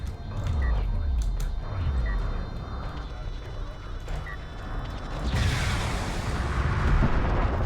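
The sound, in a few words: missiles exploding in a strategy video game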